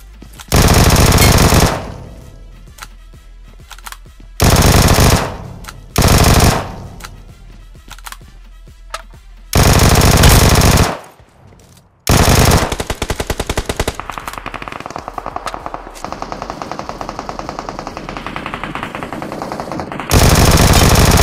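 Automatic gunfire in the mobile battle royale game BGMI, loud bursts of rapid shots in several volleys separated by quieter gaps, then a long sustained stretch of fire with more bursts at the end, no talking.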